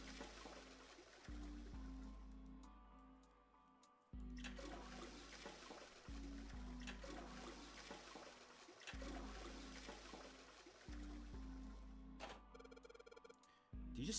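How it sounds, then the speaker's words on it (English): Old toilet flushing in the 999 video game, a loud looping rush of water repeating in several cycles with brief gaps, plus a ringing electronic tone near the end; no talking. "That's gonna be how many times we flushed."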